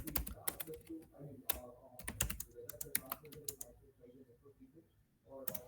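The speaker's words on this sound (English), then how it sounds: "I'm just typing." Rapid, irregular clatter of keys on a computer keyboard, typed in quick bursts with brief pauses, close and fairly quiet with some background voice faintly present.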